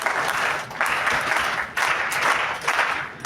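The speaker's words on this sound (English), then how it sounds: "we'll go for a rhythmic clapping" An audience claps rhythmically at a time management talk, in bursts of dense clapping that swell and pause in a steady pattern, loud and close.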